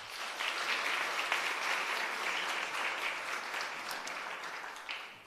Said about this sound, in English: can I ask you to give a round of applause to our learners